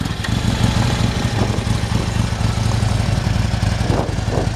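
A 2011 Harley-Davidson Street Glide with a high-compression 103 cubic inch engine idles steadily close by, a continuous low rumbling throb with no one talking.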